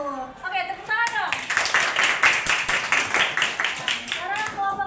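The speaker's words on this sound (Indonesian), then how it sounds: "Oke, tepuk tangan dong" A school class claps hands together after a group receives its score, steady rhythmic clapping that starts after a brief voice and continues until a voice returns at the end.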